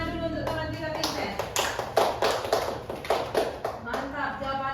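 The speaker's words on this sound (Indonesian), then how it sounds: "Tepuk tangan dulu untuk teman kita Vincent." Classroom applause, a group of students clapping hands in a steady patter for a classmate, moderately loud over a room background with voices mixed in.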